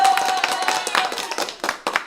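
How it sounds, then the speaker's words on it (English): A round of applause from the audience at a psychic show, loud close clapping from a group, sustained and lively throughout the short burst. "let's give you guys a round of applause because you guys are so positive."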